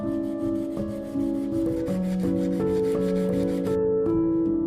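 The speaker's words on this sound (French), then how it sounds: "nous prenons une bande de papier de verre." A strip of sandpaper rubs back and forth over an old metal adjustable wrench, making a continuous gritty scraping over steady background music.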